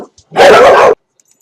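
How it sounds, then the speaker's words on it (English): A dog lets out one loud, close bark of about half a second, followed by near silence. "something set the dogs off."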